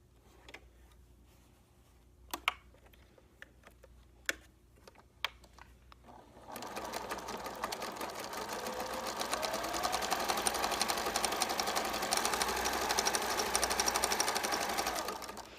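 A sewing machine stitches fabric for a homemade rice heating pad. A few sharp clicks and ticks come first, then the motor starts and runs as a loud, steady, close-up whirring hum for about nine seconds.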